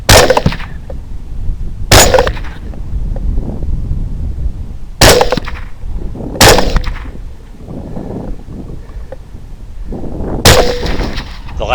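Five loud rifle gunshots fired at wild hogs outdoors, each a sharp crack with a short echoing tail, spaced unevenly a few seconds apart over a background of rustling and wind.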